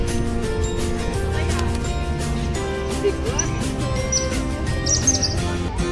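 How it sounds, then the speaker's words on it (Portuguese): A small bird chirps outdoors in short, faint high tweets over a steady, loud bed of background music and ambient noise. "Olha o passarinho ali, galera."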